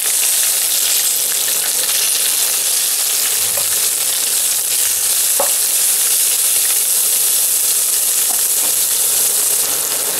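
Raw mango is stir-fried in a hot pan for mango rice, producing a loud, continuous sizzling hiss with a few faint stirring scrapes throughout.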